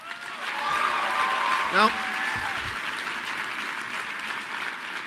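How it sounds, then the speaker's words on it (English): Audience applause at a political speech, a broad steady clapping wash that swells and holds for several seconds while a voice speaks over it. "those of you watching at home may wonder why this is being applauded"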